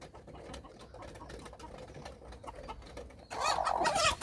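Mother hens cluck and murmur nearby in a quiet run of short calls, then a louder, busier burst of excited clucking and squawking rises sharply near the end.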